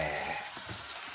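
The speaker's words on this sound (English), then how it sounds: "sizzle that sucker away" Steak hitting a hot pan on a home stove, sending up a steady, close hissing sizzle with a faint low crackle beneath, continuous throughout with no voices.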